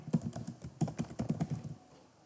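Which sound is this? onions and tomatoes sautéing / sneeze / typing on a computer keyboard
typing on a computer keyboard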